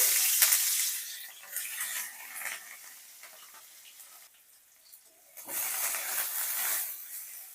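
Small shrimp dropped into hot oil for a potato and bitter gourd curry crackle in a steady broadband sizzle, louder at first, easing briefly, then surging again, with no talking.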